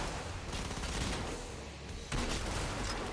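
Weapon alt-fire gunshots in the video game Killing Floor, a rough burst of rapid fire followed by a sharper, louder blast, mixed at low level.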